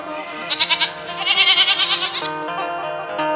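Goat bleating in a series of wavering, nasal calls, close and loud, rising in a cluster mid-way and then trailing off into a final cry.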